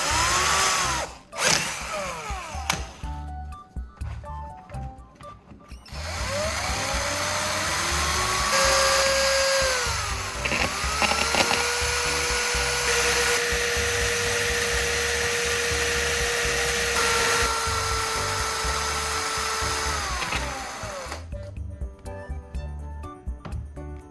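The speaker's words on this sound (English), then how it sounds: "To get the black powder from the battery core, you can carefully grind or sand down the carbon rod." A power tool grinds or sands down the carbon rod from a battery core, running as a loud, continuous whine with shifting pitch for most of the span, preceded and followed by clattering handling noise.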